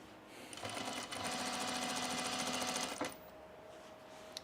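A sewing machine with a needle that feels off stitches synthetic fabric in one steady, rapid run of about two and a half seconds, close and clear, then stops.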